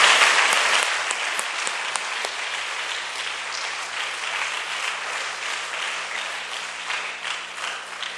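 A room full of people at a church worship service clapping steadily, loud at first and gradually easing off over several seconds.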